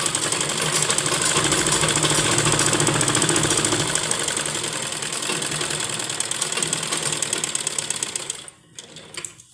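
A sewing machine runs steadily at close range as a stitch line is sewn along the sleeve of a garment, a dense continuous mechanical whir that stops near the end.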